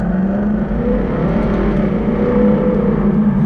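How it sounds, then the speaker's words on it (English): Jaguar F-Type R with its exhaust switched to the louder mode, a loud sustained engine drone with a steady low rumble and slight pitch shifts as the revs build, heard close and alone. "now we're going to get a little bit better exhaust sounds yet"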